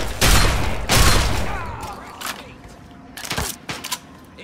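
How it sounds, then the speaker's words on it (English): 10mm pistols firing in Fallout 3, two loud sharp shots close together followed by fainter scattered pops, with a person talking over the exchange. "These guys are using pistols"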